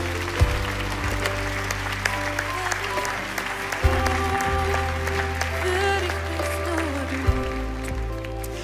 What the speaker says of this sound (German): Wollen wir unserem Herrn, unserem König, unserem Meister mal einen richtigen Applaus geben.